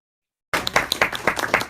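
Several people clapping in applause during a played-back video clip of a speaking club meeting, a brief burst of scattered hand claps beginning abruptly after a moment of silence.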